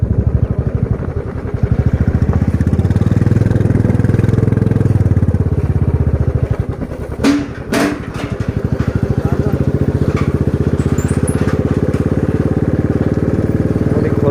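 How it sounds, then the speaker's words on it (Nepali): A motorcycle rumbles steadily at close range as it crosses a bridge near a riverside resort in Urlabari, its mid-pitched engine drone continuous throughout, with a brief clattering burst partway through. "पुलबाट जान्छ कि हो बाइक"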